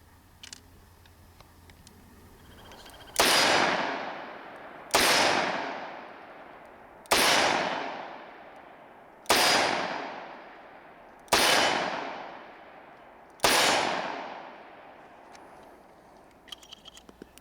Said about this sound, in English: we're shooting Sig Sauer Elite Performance